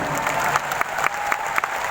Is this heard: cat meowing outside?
no